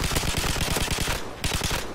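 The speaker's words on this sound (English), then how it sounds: "That was 3 headshots with a 50 cal machine gun." A 50 cal machine gun in a video game fires rapid, evenly spaced heavy bursts, a loud, continuous rattling stream of shots with a brief pause near the end before firing resumes.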